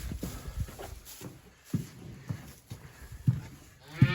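A dairy cow being coaxed through a chute on a homestead lets out a few low grunting calls, close by, spaced between shuffling and soft handling noises.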